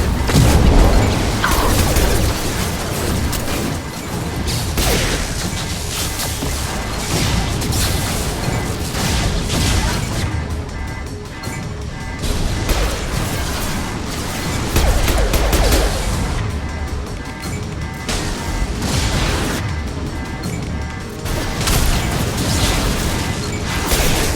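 A high impact shot from a weapon in Mass Effect 2 sets off a long, dense barrage of loud crashing impacts and bursts, with repeated heavy hits and gunfire filling the whole stretch.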